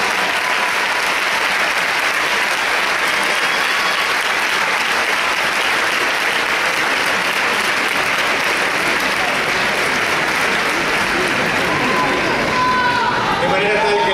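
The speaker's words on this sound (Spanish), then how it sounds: "maticemos con un aplauso y con aliento a ellos" An audience applauds tango dancers at the 2011 Tango Salon world championship, a dense, steady wash of clapping that fills the whole stretch with no break.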